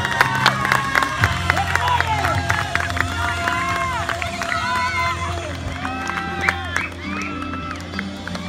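Applause and cheering from a crowd of adults and children at a youth under-13 football trophy ceremony, a busy, continuous din of clapping, whoops and shouts mixed with overlapping voices throughout.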